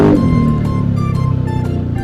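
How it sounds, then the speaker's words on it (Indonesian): Yamaha Aerox scooter fitted with an aftermarket WRX exhaust while riding, giving a loud, close, steady engine drone with a fast pulsing rhythm and wind noise. "Ini menurut kalian enak apa enggak ya ini knalpot?"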